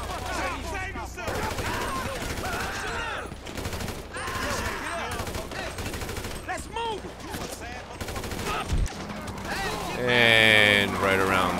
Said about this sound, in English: Let's see what this shootout is like.